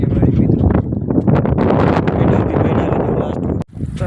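Strong wind buffeting the microphone outdoors, a loud continuous roar that covers everything and briefly drops out near the end.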